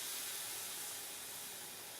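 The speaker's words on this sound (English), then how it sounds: "if it immediately sizzles away to nothing, it means your pan is hot and ready to go" Water sizzling on a hot pan heated for steak, a steady bright hiss that holds evenly throughout, close and fairly faint, with no voices.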